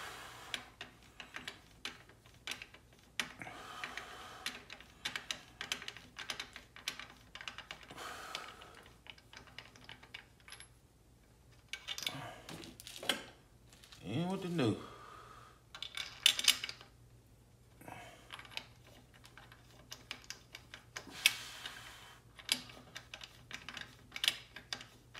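A 24 mm socket tightens a new cam bolt, giving quiet, irregular ratcheting clicks and small metallic taps in scattered bursts, with a few pauses between them.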